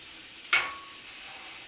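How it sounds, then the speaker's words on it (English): A quick burst of sizzling as tuna hits a hot pan for searing, settling into a soft, steady frying hiss. "hear the sizzle?"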